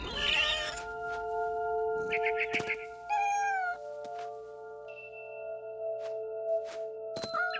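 A cat in the video game What Remains of Edith Finch meows several times in short, high, wavering calls, separated by pauses over a steady electronic hum and occasional clicks.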